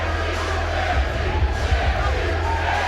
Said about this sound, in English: They are chanting Gaethje, Gaethje, Gaethje.